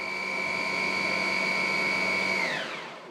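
A Dreame Z30 cordless vacuum cleaner whines steadily at high pitch with a motor hum beneath, then is switched off, its tone sliding down and fading over the last half second.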